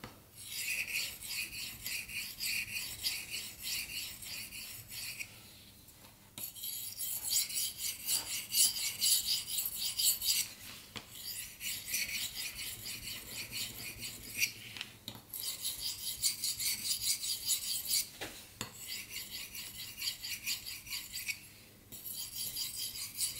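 A knife is drawn across a whetstone in long, even, gritty rasping strokes, close and moderately loud, repeating in steady sets with brief pauses between them and no talk.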